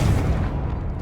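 A Confringo blast spell explodes in Hogwarts Legacy, a single loud, close boom that rumbles and dies away within a second.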